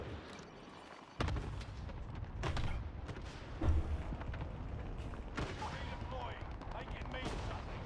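Gunfire in a multiplayer war video game, with bursts of automatic fire and single shots crackling repeatedly over a steady battle din, a heavier blast partway through, and players talking over the action.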